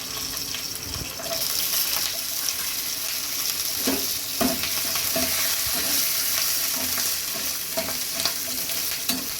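Garlic frying in a pan for chicken Lahori, stirred with a utensil: a steady close sizzle with repeated scraping and clinking strokes throughout, no talking.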